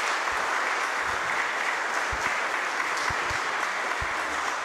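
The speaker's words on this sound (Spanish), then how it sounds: "Le damos un fuerte aplauso" Steady, dense applause from a congregation at a Catholic Mass fills the whole stretch, loud and even, with a few low thumps underneath.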